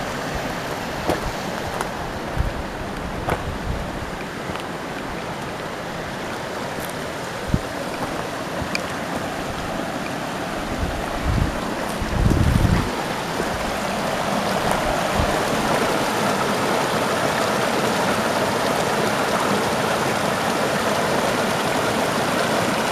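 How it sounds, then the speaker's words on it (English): A trickling, babbling mountain brook on a hiking trail in Kyburz, California, flows steadily and close, with a few brief knocks and a swell of rushing water partway through, no talk. "babbling brook."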